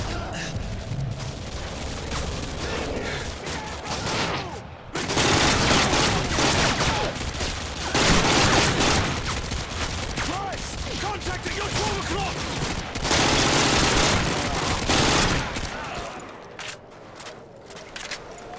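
Heavy gunfire in Call of Duty: Modern Warfare 2 comes in long dense bursts of loud automatic fire and explosions with brief lulls, and a voice speaks between them.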